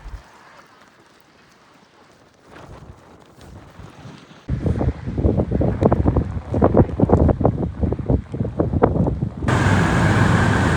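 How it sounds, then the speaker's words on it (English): Strong wind on a rainy day near Glenfinnan, Scotland, starting as a low quiet rumble, then suddenly loud, gusty blasts buffeting the microphone, ending in a steady heavy roar. "We just know it's windy."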